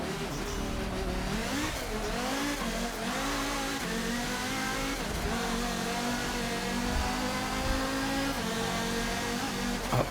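A race car engine in Forza Motorsport 7 drones loudly and steadily throughout, its pitch rising and falling with gear changes and throttle on a short circuit, with faint tire noise.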